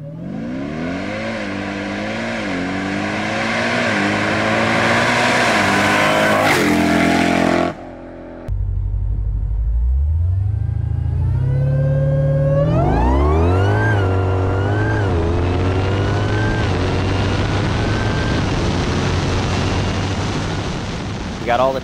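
An 1100 HP Jeep Trackhawk fitted with upgraded intercoolers and heat exchanger accelerates hard, its engine climbing loudly through several rising gear pulls, with a short break between runs and a voice briefly talking over the noise.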